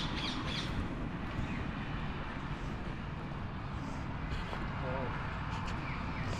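A few short squawks from pigeons on a Nottingham city street, faint and brief over a wash of traffic and background voices.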